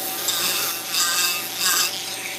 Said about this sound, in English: I'm going to round the back of this crappie off with a real rough grinder here